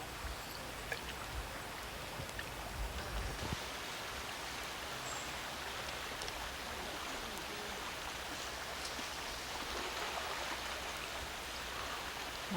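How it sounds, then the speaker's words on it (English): Steady rushing flow of the Salmon River near Hyder, Alaska, a broad continuous wash of water noise at moderate level with no talk. "Oh, they said this was Salmon River, didn't they?"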